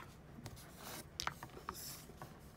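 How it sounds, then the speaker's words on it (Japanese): A water-based pen rubbed on paper for colouring, a soft, close scratching and rubbing with a few small sharp ticks, quiet and alone without talk. "こういうふうにこすって それを水で溶かして色を塗る"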